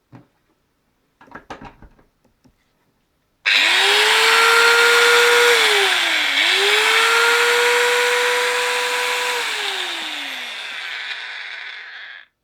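A Bosch GWS 670 angle grinder, 670 W, is switched on after a few handling clicks and spins up to a loud, steady whine. It holds for about nine seconds with a brief dip in pitch midway, then winds down.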